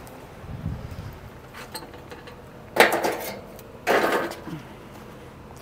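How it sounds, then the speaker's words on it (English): Hot white charcoal tossed into a metal grill basket, giving a couple of faint early clinks and then two distinct rattling, scraping clatters of coals landing, close and unaccompanied by talk. "throw in the charcoal"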